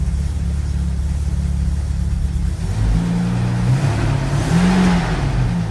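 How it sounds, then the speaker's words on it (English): A car engine with a fault in reverse, idling steadily and then revved, rising into a rougher, uneven running hum with wavering pitch, close and moderately loud. "Tries to move when you rev her up."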